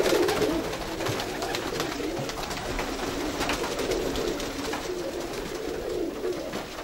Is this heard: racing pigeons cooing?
yes